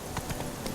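Roach, a horse in The Witcher 3: Wild Hunt, trots with a quick run of hoof clip-clops, steady and fairly close, set against a soft game ambience with no talk.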